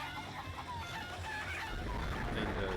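Chickens cluck over a dense, busy backdrop of game sound in a Crash Twinsanity cutscene, with short clucks repeating quickly at moderate loudness.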